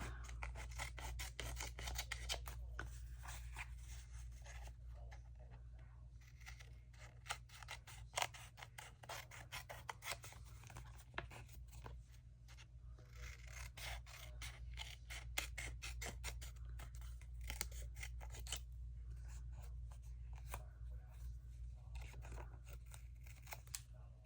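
Scissors snipping paper for handmade ephemera, a continuous run of close, crisp cutting and rasping strokes with faint rustling throughout.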